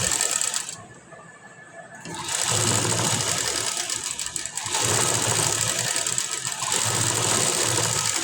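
A sewing machine stitches around the seams of a cut-work blouse in loud, steady bursts, stopping briefly near the start before running continuously again, with no talk.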